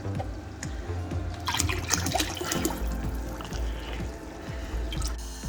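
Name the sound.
vinegar being poured into an empty aquarium tank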